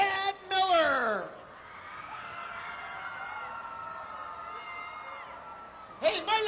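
A crowd at a boat race at Redwood Acres Raceway lets out a long sustained cheer and whoop for racer Tad Miller, rising loudly then settling into a steady roar, with a voice over a loudspeaker briefly at the start and end.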